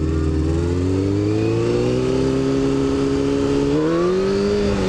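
A motorcycle with a new sprocket revs hard in first gear for a power wheelie, a steady loud engine note climbing in pitch throughout, close by, with no talk.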